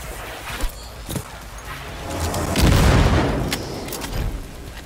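Heavy-recoil gun fired in Cyberpunk 2077: a sustained rumbling burst of booming shots that swells in the middle and trails off, preceded by a few scattered thuds and followed by lighter impacts.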